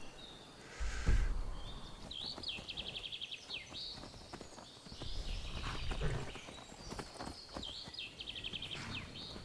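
Horse hooves clip-clop at a steady trot in the video game Skyrim, with chirping birds and occasional thumps around them.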